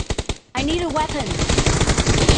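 Rapid shotgun blasts from an M1014 in PUBG Mobile: a few sharp shots, then a longer loud stretch of repeated firing with ringing tails, close and dense.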